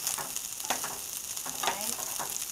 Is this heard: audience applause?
no